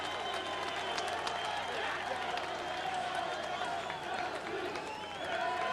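A boxing crowd at the Acelino Freitas versus Daniel Attah fight roars and applauds continuously, a broad, steady arena din with scattered shouts rising from the mass of voices.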